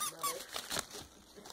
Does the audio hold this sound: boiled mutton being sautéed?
no